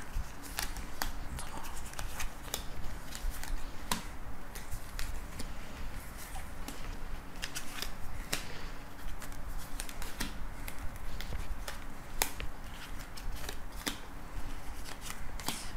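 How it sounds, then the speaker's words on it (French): A deck of oracle cards is shuffled for a thirteen-card draw, a continuous run of close, crisp papery flicks and riffles with a quiet, even rhythm and no voices. "on va faire notre tirage de 13 cartes"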